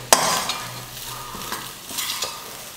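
Street-style cauliflower (gobi) fried rice, sprinkled with pepper powder and coriander leaves, is stirred in a pan on a low flame. A sharp initial scrape is followed by a few soft scrapes over a continuous light sizzle.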